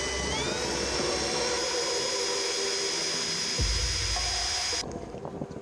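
A high-pitched drill whines steadily while boring into a metal mast on a wet day, then cuts off abruptly near the end, leaving quieter background noise.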